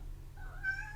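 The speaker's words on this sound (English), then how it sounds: "I think that's my cat." A house cat gives a single short, rising meow near the end, close and clear over a low indoor hum.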